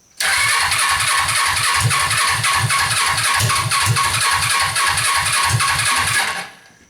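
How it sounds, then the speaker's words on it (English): A Suzuki engine running with its idle turned up, loud and close, with a steady lumpy chugging pulse of a few beats per second that holds evenly until it cuts off at the end. "now I just need to turn up the idle a little bit"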